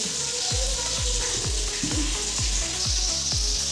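Potatoes frying in a kadai: a continuous loud sizzle with a regular series of low thumps underneath, close and steady, without any talking.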